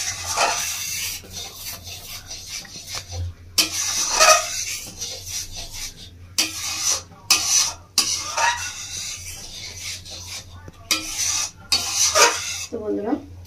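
A spoon scrapes and stirs through raw mango chutney in a pan, with a sprinkling of crushed fried dry peas on top; irregular rasping strokes come close and clear in bursts, separated by brief quieter gaps.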